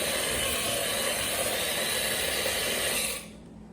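An electric mixer runs at low speed through dry cake mix powder, a steady close whirring hum that holds evenly and then cuts off just before the end.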